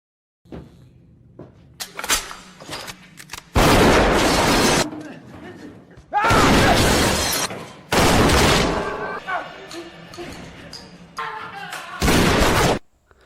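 Gunfire from a film shootout at a gangster hideout, several loud bursts of rapid shots separated by quieter stretches with vehicle and movement sounds, with a voice talking over parts of it.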